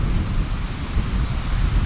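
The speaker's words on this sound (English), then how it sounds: "it's quite windy today" Broad, steady rushing noise of wind buffeting a military arctic tent at a camp outdoors, loud and constant with low rumbling gusts and no voices.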